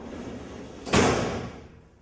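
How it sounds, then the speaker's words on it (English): A WasteQuip recycling baler's safety gate is lowered, giving a single sharp metallic slam after a quiet lead-in, followed by a fading rumble as the gate settles. "Lower the safety gate."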